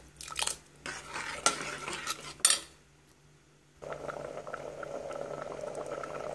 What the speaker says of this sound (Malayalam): ഇനി ഇത് നല്ലവണ്ണം തിളപ്പിക്കണം.